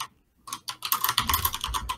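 Quick, steady typing on a computer keyboard starts after a short pause and runs as a dense patter of close keystrokes with no talk.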